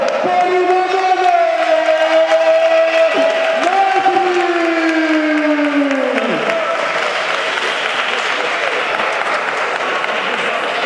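Crowd applause at a boxing event, a loud sustained clapping and cheering from the audience, with a voice over a loudspeaker talking on top of it for the first several seconds.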